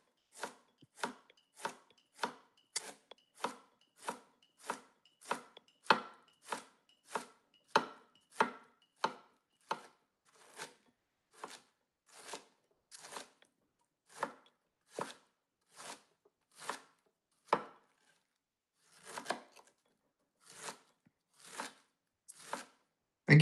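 A knife slicing meat as thinly as possible, crisp regular cuts striking the board roughly once a second, close and distinct against near silence, the pace loosening slightly toward the end.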